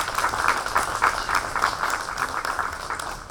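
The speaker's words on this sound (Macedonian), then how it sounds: "Еден аплауз ве молам." Applause from the audience at a Macedonian Writers' Association anniversary ceremony, with steady, dense clapping that holds at an even level throughout, no voices over it.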